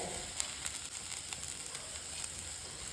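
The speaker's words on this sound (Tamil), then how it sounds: "இது எல்லாமே போட்ட பிறகு ஒரு 2 நிமிஷம் நல்லா வதக்கி விட்டுறலாங்க." Whole spices such as urad dal, chana dal, pepper, cumin, fennel and cinnamon sizzle in hot oil in a pan, a steady close frying crackle with small pops and no speech.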